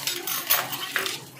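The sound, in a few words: fork clinking in a bowl of ice cream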